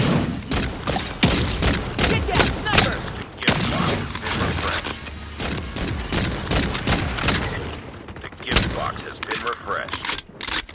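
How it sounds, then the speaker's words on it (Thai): Rapid pistol shots fired in the carnival shooting-gallery video game Carnival Shoot Out, a dense run of sharp cracks throughout, overlapping with game effects and a talking voice. "ใช้ปืนพกยิงนะครับ"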